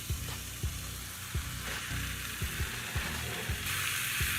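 Beef roast searing in a hot pan with salt, a steady sizzle and crackle of frying with periodic low knocks and clinks, close and fairly quiet, with no talking.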